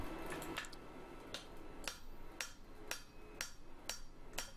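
A hammer strikes a hot steel bar set in a bottom swage at the forge, about nine sharp metallic blows falling in a steady rhythm, with a faint ring between hits.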